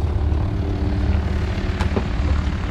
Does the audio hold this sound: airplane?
yes